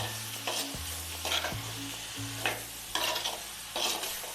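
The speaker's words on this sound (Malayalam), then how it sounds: "നന്നായിട്ട് ഇളക്കണം. ഇളക്കിയിട്ട് മൂടി വെച്ച് തന്നെ വേവിച്ചെടുക്കണം." Bitter gourd pulissery being stirred in a pan, with repeated scraping strokes over a steady low simmering bubble and hiss, close and moderately loud with no talking.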